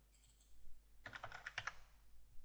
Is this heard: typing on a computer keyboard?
yes